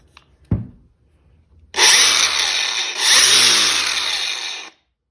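A DEWALT 20V MAX cordless angle grinder is switched on after a sharp click, spinning up to a loud, bright, steady whine that holds for about three seconds, surges once mid-run, then cuts off abruptly.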